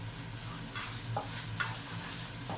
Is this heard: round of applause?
no